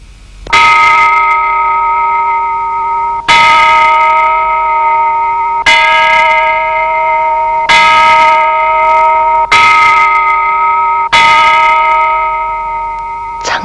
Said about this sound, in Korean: 국민 사랑의 종소리가 울립니다